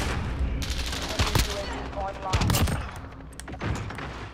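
Repeated gunfire in Call of Duty Modern Warfare, sharp bursts and single cracks going off from several directions at close and middle range, loud over a busy battle background with occasional voices.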